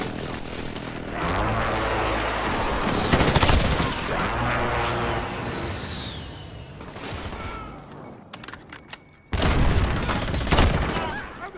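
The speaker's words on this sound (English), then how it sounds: "Allied precision airstrike incoming." Precision airstrike explosions in Call of Duty Modern Warfare: a run of heavy booms and rumbling blasts mixed with gunfire, loud and close, fading before a final burst, with brief voice callouts.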